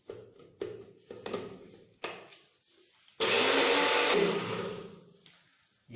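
Electric mixer grinds hard spices including black pepper, starting with short pulsed bursts and knocking, then running in one loud sustained whir for about a second before winding down; no talking.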